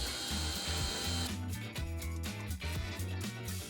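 A power screwdriver drives screws while a door lock mechanism is assembled and fastened, a steady close whirring with shifting pitch and short pauses throughout, no talk.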